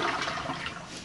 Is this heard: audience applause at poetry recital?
no